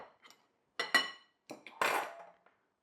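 Kitchen clatter while making sourdough-discard banana bread: a mixing bowl and spoons clink and knock in several short, separate bursts at close range, with quiet gaps between them.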